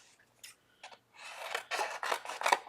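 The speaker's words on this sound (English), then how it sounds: "So I'm going to cut these apart." Craft pieces for a teacher shutter card being cut apart by hand, a series of rasping, scratchy cutting strokes that start sparse and then grow denser and louder, close by with no talking.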